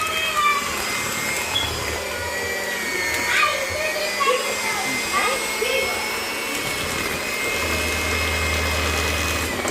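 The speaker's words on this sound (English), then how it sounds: "I ain't got one of them fancy blenders, so I just use my regular blender" An ordinary Walmart blender whirs steadily while mixing chocolate chip cookie batter, a loud continuous motor drone that shifts pitch slightly, with a person speaking over it.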